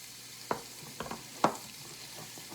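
Flour being stirred into purple potato pancake batter, a few soft, wet scraping strokes of a utensil in a bowl, close and quiet, with no talking.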